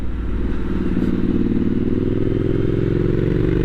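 A Triumph Street Scrambler 900 motorcycle rumbles steadily while being ridden, its engine note climbing gradually as it accelerates, loud and close with no speech.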